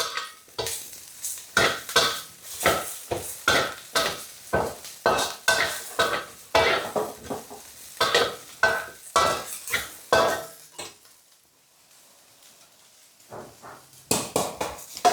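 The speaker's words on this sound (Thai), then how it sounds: "ตอนนี้ก็คั่วพริกให้สุกก่อน คั่วพริกยำซุปมะเขือค่ะ" Chilies are dry-roasted in a pan for a Thai eggplant dip, with a utensil scraping and tossing them in a quick, rhythmic series of strokes. The strokes pause briefly near the end, then resume.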